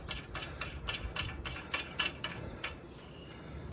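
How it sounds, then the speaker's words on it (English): A single hub nut being spun onto the auto-hub spindle of a 1994 JDM Land Cruiser Prado KZJ78, giving a close series of about eight evenly spaced metallic ratcheting clicks that stop near the end. "So this single nut screws on"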